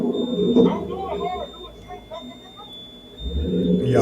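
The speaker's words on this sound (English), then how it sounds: "That's the alarm going off." Pharmacy burglar alarm sounding as a steady high electronic tone that runs through the whole stretch, with a chain rattling and people talking underneath.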